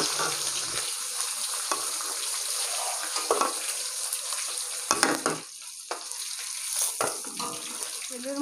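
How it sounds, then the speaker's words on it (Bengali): Rohu fish pieces frying in hot oil in a kitchen pan, a steady crackling sizzle throughout, broken by a few louder bursts and clatters as the pieces are stirred and turned; no voices. "দুপিটি ভালো করে মাছটা ভাজা হয়ে গেলে আমি নামিয়ে নেব"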